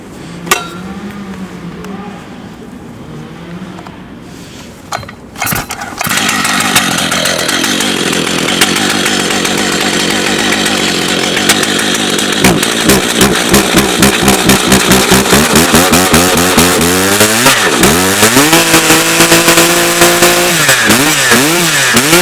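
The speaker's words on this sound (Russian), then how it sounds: "Вот это пила, вот это звук." A powerful petrol chainsaw, either a Stihl MS 880 or a Husqvarna 3120 XP, starts after a few pulls. It then roars loudly and close up, revving repeatedly in rising and falling surges.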